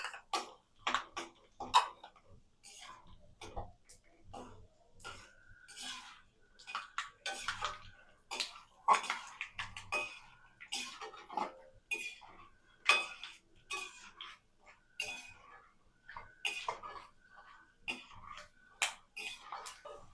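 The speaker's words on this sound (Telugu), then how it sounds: "ఇప్పుడు వేరుశెనగ గుళ్ళు కూడా వేయించుకోవాలి." Peanuts being roasted in a pan for a street-style puffed rice mix, with sparse irregular clicks and rattles of nuts and a stirring utensil against the pan, fairly quiet and close.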